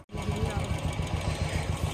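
A Bullet motorcycle's engine idles right after a kick start, a close, steady thumping beat with an even rhythm that follows a short silence at the very start.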